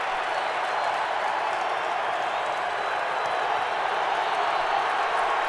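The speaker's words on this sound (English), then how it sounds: "Crowd trying to make it difficult for Manning." Stadium crowd roar at an NFL game, Indianapolis Colts at Atlanta Falcons in 2007, a continuous broad wash of noise from a large crowd, steady and fairly loud with no clear breaks.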